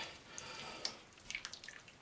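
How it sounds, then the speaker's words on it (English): A thin flour-and-water mixture drizzles into a pot of simmering British beef stew, heard as faint, scattered liquid drips and small splashes that cluster toward the end, with no talking. "We'll just drizzle in that flour and water and then allow it to thicken up our stew."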